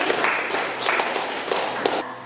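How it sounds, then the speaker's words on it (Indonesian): Students in a classroom give a round of applause for a classmate named Desi, steady close clapping with a few louder accents, running for a couple of seconds. "Beri tepuk tangan untuk Desi."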